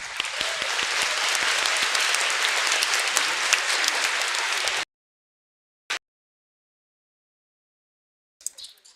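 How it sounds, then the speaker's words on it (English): An audience at a school Veterans Day assembly applauds the Tonkawa High School Marching Band, a loud, dense burst of clapping that stops abruptly after nearly five seconds, followed by near silence with a couple of brief stray sounds. "Let's give them another big round of applause."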